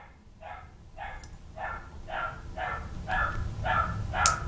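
A dog barks steadily in a regular series of about eight evenly spaced barks, moderately close, over a low background rumble, with a faint click near the end.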